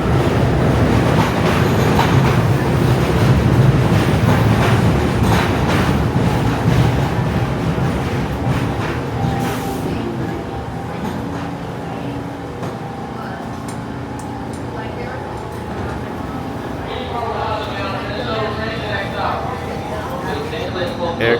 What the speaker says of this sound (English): Standing for a shuttle train